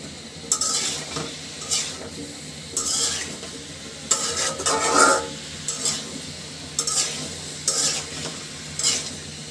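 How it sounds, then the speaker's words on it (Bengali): Spices and vegetables worked together by hand for a fish curry, wet squelching and mashing pulses repeating in a loose rhythm, close and moderately loud, with faint clinks of a bowl. "খুব ভালোভাবে মশলা এবং সবজি মাখিয়ে নিব"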